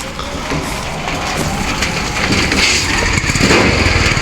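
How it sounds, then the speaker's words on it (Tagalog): A push-started motorcycle engine catches and runs, a rough, uneven mid-pitched putter that grows slightly louder and steadier over a few seconds, heard close with no talking. "yung ditulak na motor"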